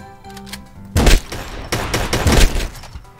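Bursts of video game gunfire in Ring of Elysium as a bot is finished off, loud rapid shots clustered in two volleys after a quiet opening with faint game ambience.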